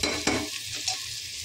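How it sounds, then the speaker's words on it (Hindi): Tomatoes and spices sizzle in a hot pot while a spoon scrapes and stirs a couple of times, close up and fairly quiet. "बस 1 मिनट तक हमें टमाटर और मसालों के साथ भूनना है।"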